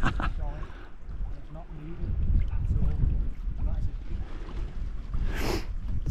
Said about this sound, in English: And big waves just come over.